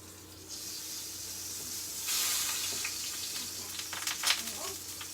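Garlic frying in a hot pan in a home kitchen, a steady close sizzle and hiss that swells louder midway, with faint voices and stirring sounds over it.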